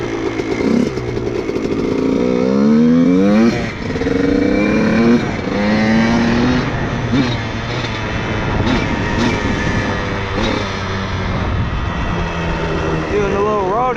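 Honda CR125 or 400EX dirt bike engine revving on a road to warm up, loud and close, with repeated rising and falling throttle sweeps, some bursts and dips, and a steady rumble between revs.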